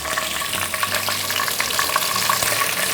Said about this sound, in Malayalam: നല്ലെണ്ണ എടുത്ത് അതിലോട്ട് നമ്മൾ ഉലുവായിട്ട് കൊടുക്കുന്നു അതുപോലെ തന്നെ കടുക് ഇട്ട് കൊടുക്കുന്നു വെളുത്തുള്ളി ഇട്ട് കൊടുക്കുന്നു